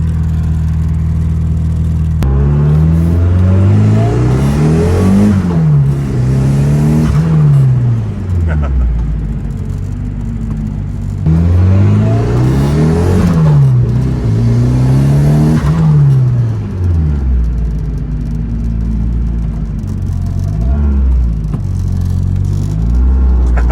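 A GSX Spyder vehicle's engine runs loud and close, revving up and down in repeated swells with a rumbling idle between the rises.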